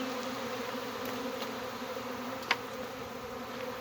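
A honey bee swarm fills the air with a steady, continuous drone of many wings that holds at an even level throughout, with one brief click partway through.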